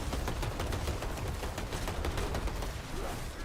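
Firing squad gunfire in a video game: a dense, loud burst of rapid overlapping shots crackling continuously for a few seconds, close and without speech.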